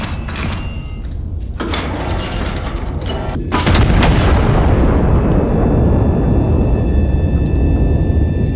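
Artillery fires in the Iron Nest game, heavy booms and blasts that swell into a loud, sustained roar with crackling debris, building in intensity toward the end.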